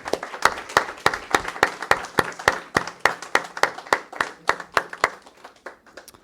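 A small audience at a poetry slam claps together in a steady, fairly even rhythm, distinct individual claps ringing out close and clear before tapering off.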